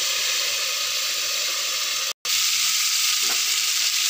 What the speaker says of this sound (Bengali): এটাকে একটু ভেজে নেব ভালো করে।